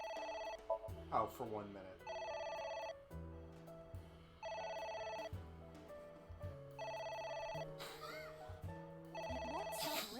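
Telephone ringing in the video game AI: The Somnium Files, repeated bursts of electronic ring tones with short gaps, under a person talking.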